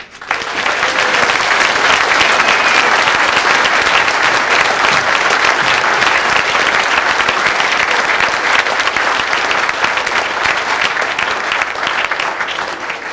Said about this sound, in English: I would like to take this opportunity to put our hands together and give these gentlemen a round of applause.